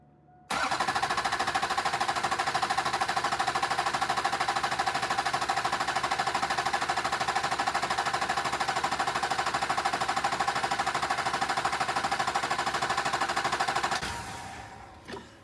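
An LB7 Duramax diesel cranks over on the starter for about fourteen seconds, a loud, steady mechanical chug with rapid, even rhythm that cuts off abruptly, with no speech.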